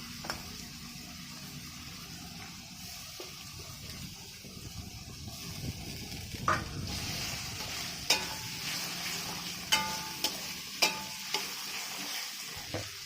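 Garlic and ginger frying in a pan for a spicy mutton kosha, a steady close sizzle broken by spatula scrapes and knocks that grow sharper and more frequent in the second half.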